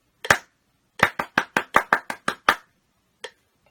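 Hands clap a short rhythmic pattern: one clap, a pause, then a quick even run of eight sharp claps in sixteenth-note groups, and a final lone clap, all close and dry with no talking.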